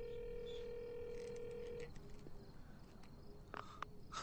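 A coin payphone in a gas station garage gives a steady dial tone that cuts off, followed by a few faint tones and clicks of dialing over a quiet hum with crickets in the background.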